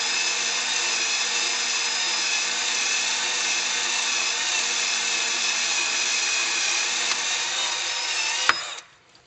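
A steel paddle bit driven by a drill cuts a hole through a soft aluminum instrument panel, producing a steady high whine with metallic grinding that breaks through with a sharp clack and then spins down.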